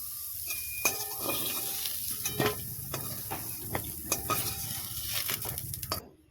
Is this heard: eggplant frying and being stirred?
yes